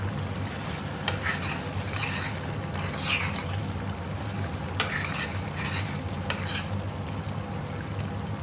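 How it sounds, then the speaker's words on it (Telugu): Spicy chicken curry with coriander leaves being stirred in a pan, a close continuous sizzle with a few distinct scraping and clanking strokes of the spoon spread through. "ఒకసారి కలిపేసి"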